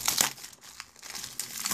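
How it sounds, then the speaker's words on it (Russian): AliExpress delivery box being opened, its packaging crinkling and rustling in short close bursts, quiet and without talk. "давайте теперь откроем коробаху"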